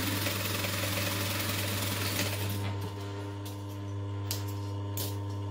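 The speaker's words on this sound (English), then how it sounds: "I'm just going to fold the pocket back in half and stitch the sides down." Sewing machine stitching down the sides of a folded backpack pocket, a steady continuous motor hum with a strong low drone running throughout, close and fairly loud, with brief thin clicks near the end.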